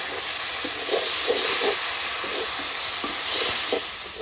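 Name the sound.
potatoes and herbs frying in a pan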